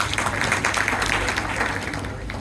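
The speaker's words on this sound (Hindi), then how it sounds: "इसके लिए चेयरमैन साहब के ऊपर जोरदार तालियों से अभिनंदन कीजिए" Audience in a Delhi auditorium seminar hall applauding the chairman, a dense steady wash of many hands clapping throughout, moderately loud and continuous.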